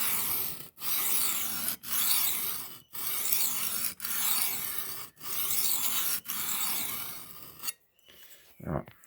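A knife blade being hand sharpened on inexpensive diamond plates makes a close, steady raspy scraping in repeated strokes of about a second each, with short pauses between passes and a faint click at the end.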